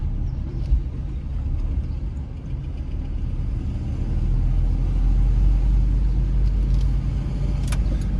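Car driving slowly through city streets in Philadelphia's North Side at around 23 mph, steady interior engine and road rumble that swells slightly partway through, with a faint brief clink near the end and no clear talk.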